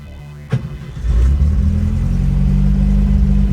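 An old Volkswagen bus engine on a test drive starts up after a brief knock and settles into a loud, steady low rumble that holds without a break.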